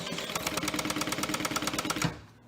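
A sewing machine runs a quick, even burst of stitches as it back stitches the seam of a zipper pouch, then stops abruptly; close and alone, with no voices.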